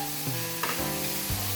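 Teriyaki chicken cooked without oil sizzling in a pan as a spatula scrapes and stirs, a steady bright hiss with occasional scraping knocks, close and alone without talk.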